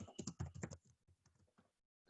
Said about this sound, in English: So please forgive my typing skills.